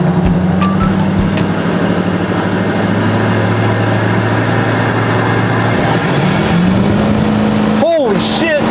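A 6.4L Powerstroke diesel pickup roars at full throttle from a launch, a loud, sustained engine drone close by that shifts pitch partway through, with a voice talking over it.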